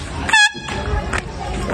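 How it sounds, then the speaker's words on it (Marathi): A loud, close horn blast with a bright harmonic tone sounds once for roughly a quarter second, followed by street noise and faint voices in the background. "माझा भोंगा."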